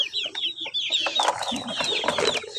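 Backyard hen, mother of a brood of chicks and currently laying, clucking in quick repeated bursts up close, with other chicken calls and a busy mix of fowl noise around her throughout.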